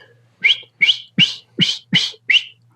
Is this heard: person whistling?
yes